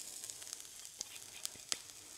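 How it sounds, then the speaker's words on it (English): Garlic frying in a little oil in a hot, heavy cast iron pan, a faint steady sizzle with a few sharp crackles and pops scattered over about two seconds. "So first we're going to fry up some garlic, a little bit of oil."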